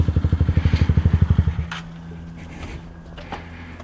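A motorcycle engine revs in a fast burst of loud, throbbing pulses for about a second and a half, then drops back to a quieter, uneven idle with light clatter nearby.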